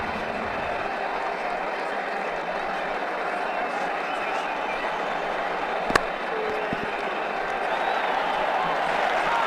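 A cricket crowd in the video game Ashes Cricket 2009, at an IPL match between Mumbai Indians and Rajasthan Royals, keeps up steady broad applause and cheering, with one sharp knock midway.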